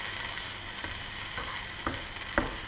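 Vegetables frying in a pan on the stove, a soft steady sizzle with a few light scraping clacks as they are stirred.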